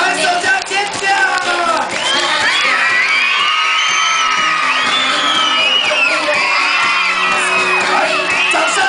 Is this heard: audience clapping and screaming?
yes